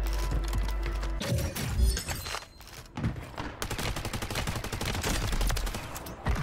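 Rapid bursts of Holger 26 light machine gun fire in a first-person shooter, dense and loud with a steady rattling stream, brief pauses, and mechanical clatter mixed in.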